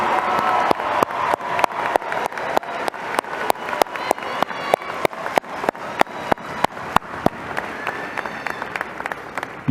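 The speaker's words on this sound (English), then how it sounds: "Give them a round of applause" A graduation ceremony crowd claps for a group of seniors, a rhythmic round of applause with sharp, regular claps standing out over the steady patter of many hands, a few cheers mixed in.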